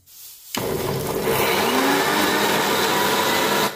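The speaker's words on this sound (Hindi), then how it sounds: "सारी चीज़ें मैंने मिक्सर में डाल दी हैं। चलिए अब इसको फटाफट पीसते हैं।" A kitchen mixer grinder grinding garlic leaves and other chutney ingredients starts abruptly and runs loud and continuous at close range, with a steady high whirring roar.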